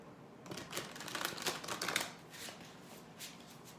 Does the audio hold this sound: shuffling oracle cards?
yes